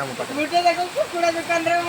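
Heavy rain pours steadily outside a chicken shop where people are sheltering, a dense continuous wash of falling water with voices carrying over it throughout.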